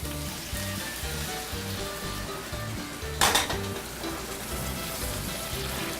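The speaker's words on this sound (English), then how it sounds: "Okay, that's getting brown. Now I'll take and put in the reduced wine." Short ribs browning in a hot pan as reduced red wine goes in, giving a continuous loud sizzle with a sudden hissing burst partway through, close and without talk.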